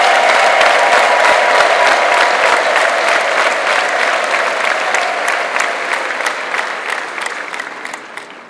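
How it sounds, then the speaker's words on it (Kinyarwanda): A church congregation honouring a pastor at an ADEPR gathering breaks into loud, sustained applause that thins gradually over several seconds, with crowd voices mixed in. "nsabira amashyi n'impundu bikwiriye Pasiteri Theogene Niyonshuti"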